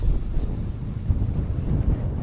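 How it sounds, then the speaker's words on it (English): Strong wind on the Scottish coast, roaring continuously against the microphone as a loud low buffeting rumble for the whole stretch, with no talking. "It is very windy here"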